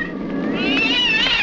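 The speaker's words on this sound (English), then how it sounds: "leave that cat alone." A cat meows in a long, drawn-out, rising wail lasting over a second, loud and close, with no voices over it.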